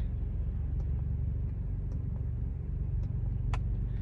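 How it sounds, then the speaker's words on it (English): A car runs quietly with a soft, even low rumble close by, broken only by a few faint clicks and taps, no one speaking. "this is how my car's supposed to sound, just quiet"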